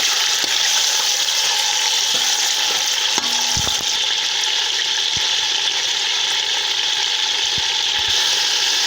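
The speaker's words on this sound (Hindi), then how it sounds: "तो इसको सबसे पहले हम फ्राई करके निकाल लेंगे। माशाल्लाह कितनी प्यारी आवाज़ आ रही है।" Half a kilo of chicken frying in a pan for a Qasuri methi chicken dish, a steady loud crackling sizzle throughout with a few soft utensil clicks and scrapes, no voices.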